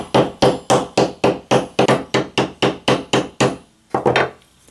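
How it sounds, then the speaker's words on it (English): A hammer taps a steel hoop onto the handle of a Japanese chisel, striking twelve or so loud, evenly spaced blows close by and then two quicker final hits. "take your hammer, and you tap all the way around"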